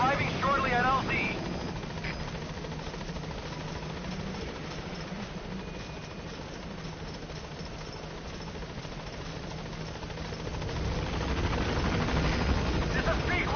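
A helicopter in Metal Gear Solid V approaches the landing zone with a steady rotor and engine drone throughout that swells slightly near the end, while radio voice chatter plays over it.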